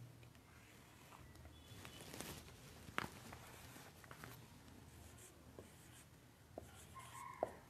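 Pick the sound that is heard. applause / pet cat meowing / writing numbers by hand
writing numbers by hand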